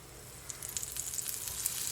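Butter sizzles and crackles softly in a frying pan, a steady hiss dotted with small pops.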